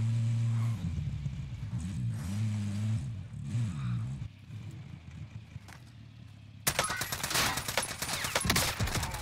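An engine hum and vehicle rumble in Warzone give way to loud bursts of rapid EM2 rifle fire, a close, tightly spaced rattle of shots near the end.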